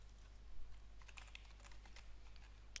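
Soft, quick keystrokes on a computer keyboard, a short run of faint clicks close to the mic over low background hum.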